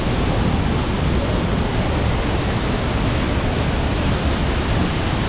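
La Curva waterfall in Norte de Santander rushing in a dense, unbroken roar of falling water, loud and close, with no voices over it.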